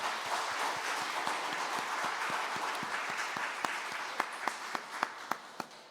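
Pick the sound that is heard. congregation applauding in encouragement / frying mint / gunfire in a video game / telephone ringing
congregation applauding in encouragement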